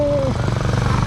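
A motorbike engine labors on a steep uphill mountain road, a steady low rumbling drone that strains continuously and stays close and loud throughout.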